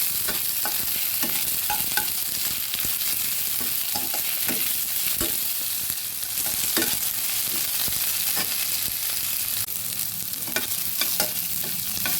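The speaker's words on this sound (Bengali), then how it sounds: "পেঁয়াজটাকে আমি সুন্দর করে ভেজে নিচ্ছি" Sliced onion and three green chilies fry in hot oil in a pan for a restaurant-style tomato bharta, a steady close sizzle broken by frequent spatula scrapes and clicks against the pan, with no talking.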